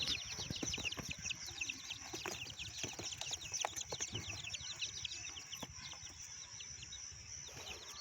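Japanese bantam chicks peep constantly in a rapid, high chorus of overlapping cheeps, with occasional soft thumps and rustles nearby.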